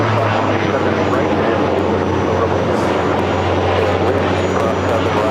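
Aircraft at LAX airport in challenging weather, a steady broadband engine roar with a low constant hum, loud and continuous throughout with no pauses.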